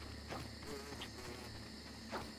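A fly buzzes in the survival video game Grounded, a thin steady drone with brief sharper buzzes over low game ambience.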